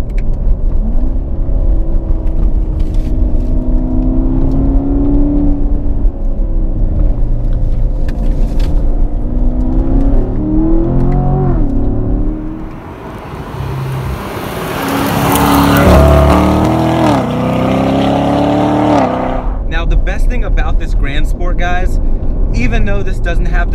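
A supercharged 2018 Chevrolet Corvette Grand Sport drives through a corner, its engine droning and rising in pitch, swelling into a louder rev burst before settling, with someone talking over it.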